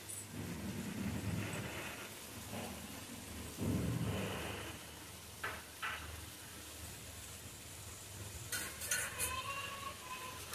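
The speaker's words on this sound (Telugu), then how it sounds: "కొబ్బరి పౌడర్ వేసుకున్నాక అంతా ఒకసారి కలుపుకుందాము." Spices and chili powder mixed with coconut powder are stirred in a hot pan: a steady sizzle with scraping and stirring strokes, near and continuous, and a few brief metallic clinks toward the end.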